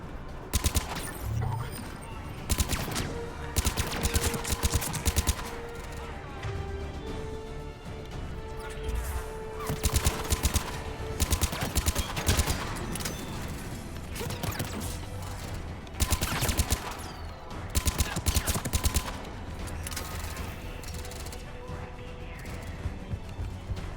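Bursts of rapid gunfire from a head-shooting gun in a sci-fi shooter game, loud cracking volleys that come in clusters, some sustained like a fusillade, over a steady background of game music and effects.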